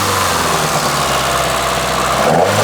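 A Citroën AX Sport engine runs steadily at close range while warming up, a rough throbbing idle through a tubular exhaust, with a faint rise in pitch near the end.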